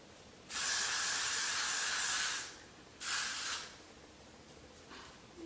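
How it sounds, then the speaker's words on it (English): Freeze spray hisses from an aerosol can onto a 360 lace wig in two close bursts, a long blast of about two seconds and then a shorter one, with quiet in between. "I then take my freeze spray."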